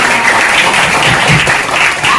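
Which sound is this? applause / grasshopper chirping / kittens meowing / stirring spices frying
applause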